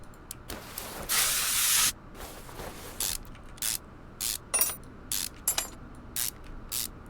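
Penetrating oil sprays onto suspension bolts in Car Mechanic Simulator 21 during lower control arm removal on a 1969 Salem Spectre Fastback: one long hissing spray burst, then a series of short spray puffs and clicks, close and clear.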